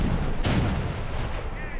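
A single naval cannon shot from a warship in War Thunder's April Fools 2016 ships mode, a sharp blast near the start of the clip over a steady low rumble of game noise, with a speaker's voice faintly mixed in.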